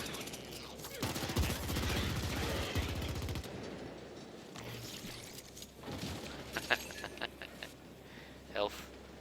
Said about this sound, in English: you're about to see how these machine guns like rock, baby